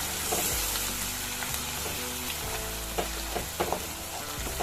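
Onion-tomato paste for masoor sizzles loudly in a hot pan, a steady dense frying hiss broken by repeated scraping and clacking strokes as it is stirred and mixed, close up with no talk.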